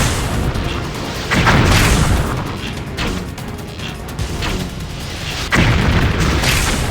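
Missiles exploding in the action video game Ninja Gaiden II, heavy rumbling booms that swell twice over a constant roar of noise, loud and close with no speech.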